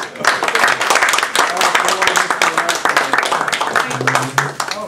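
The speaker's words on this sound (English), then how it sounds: "I'd like to give him another round of applause" Audience applause for a book author at a talk about the KKK's growth, a busy patter of many hands clapping at moderate loudness, mixed with some talking and voices over the clapping.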